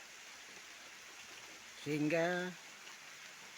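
Rain falls steadily in a cool, humid forest, a soft continuous hiss that runs throughout while a voice briefly speaks over it.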